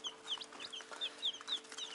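Young chicks, one of them sick with splayed legs, cheep in quick high peeps around a hen, a soft scattered chorus of chirps over a faint steady hum.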